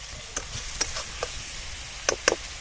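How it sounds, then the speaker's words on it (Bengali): Masala paste fries in oil in a pan, giving a soft continuous sizzle broken by a few sharp scrapes and clicks as it is stirred, all close and fairly quiet. "আর একটু আমরা কষে নেব"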